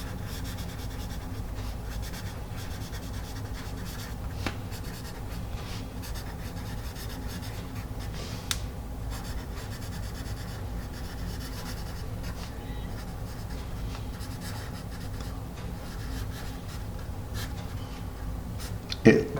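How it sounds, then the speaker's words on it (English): Palomino Blackwing Pearl graphite pencil gliding across paper, a soft continuous scratchy rub with faint strokes and an occasional tap, quiet and close throughout. "Listen to how quiet this pencil is."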